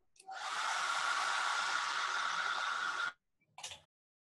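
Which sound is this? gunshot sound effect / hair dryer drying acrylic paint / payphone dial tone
hair dryer drying acrylic paint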